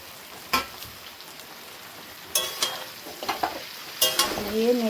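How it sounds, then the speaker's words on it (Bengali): Spring onion greens frying in a pan: a low, quiet sizzle under three bursts of spatula scraping and tapping, the last one sputtering louder, near and without speech. "দিয়ে নেড়ে চেড়ে নেবো ভালো করে।"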